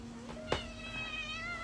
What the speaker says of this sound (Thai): แมวชื่อจินค่ะ